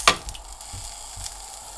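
A giant sunflower head cooks in a hot pan, giving a steady soft sizzle after a sharp clack at the start, with faint scrapes and low thumps.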